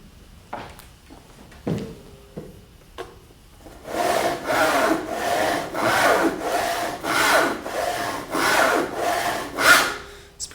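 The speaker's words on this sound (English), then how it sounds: "right under the window, hammering and sawing on that goddamn box" A few knocks and scrapes, then rhythmic back-and-forth strokes of a handsaw cutting through wood, close and steady, about a dozen strokes.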